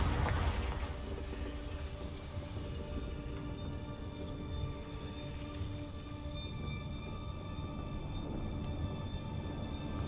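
A Confringo blasting spell goes off in a Harry Potter game, opening with a loud boom that settles into a sustained rumbling burst with ringing tonal overtones lasting several seconds, no voices over it.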